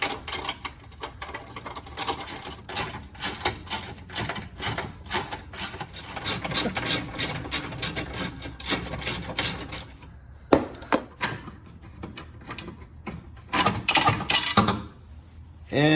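Oil pan bolts being backed out with a hand socket wrench on a Fiat 500 Abarth, a steady run of close, rapid ratcheting clicks with a few brief pauses and louder metallic knocks near the end.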